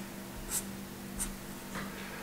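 Marker pen strokes on paper while drawing a figure, three short, faint scratchy swipes spaced about half a second apart over a low steady hum.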